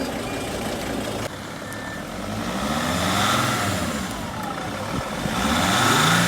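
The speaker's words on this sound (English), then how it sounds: "I want you to start the van." A van's engine runs at a mid-pitched idle and rises into a revving drive, fairly loud and close, with a steady rumble and no talking.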